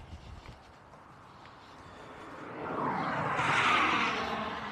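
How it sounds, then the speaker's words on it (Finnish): Strong wind blows outdoors as a broad, steady rush that swells louder and stronger toward the end, with no voices. "tuulee niin pirusti"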